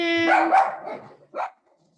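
A dog barks close by, a couple of rough, drawn-out barks followed by a short, sharp yip, then quiet.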